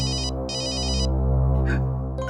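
A phone ringtone plays a bright electronic melody in repeated bursts with short gaps, loud and close over a steady low hum, in a Hindi crime drama scene.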